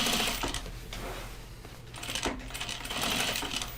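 A sewing machine top stitches denim-style overalls, a close rapid mechanical whirring with rhythmic needle clatter that pauses briefly twice before resuming.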